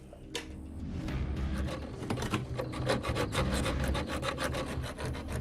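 Metal prison window bars being cut, a steady, loud rasping scrape with repeated strokes throughout, close and continuous with no talking.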